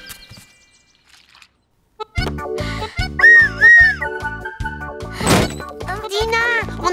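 A cartoon whistle is blown in a few shrill, wavering toots over bouncy music, with a loud thunk and children's voices talking around it after a quiet opening.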